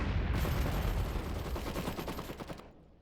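Gunfire crackles in an Iron Harvest 1920 battle during a night raid, a dense rapid rattle of overlapping shots that fills the clip before cutting off sharply near the end.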